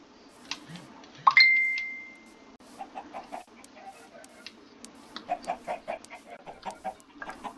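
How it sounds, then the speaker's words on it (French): Video game chickens cluck softly in short repeated bursts, with a single sharp tone ringing out early on, otherwise fairly quiet. "Pourquoi les poules elles pondent plus d'œufs là?"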